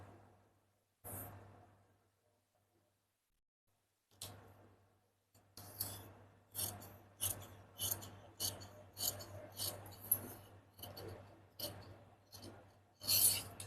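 Scissors snip through blouse fabric close up, a few isolated cuts after a quiet pause and then a quick regular series of crisp snips, with no talking.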